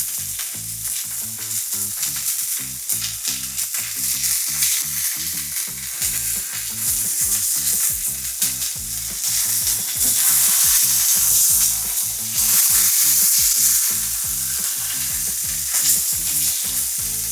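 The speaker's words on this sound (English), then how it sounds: "Then we're going to throw in our patty." A seasoned burger patty sizzles in a cast iron pan with loud, continuous frying crackle and a fast rhythmic spatter, growing slightly louder toward the end, with no voices.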